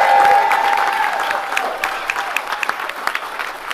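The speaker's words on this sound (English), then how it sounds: "I think we should give a special round of applause to all the Guardian Angels" Applause for the Guardian Angels at a concession speech, sustained clapping from a crowd with a held tone early on, then thinning to scattered claps.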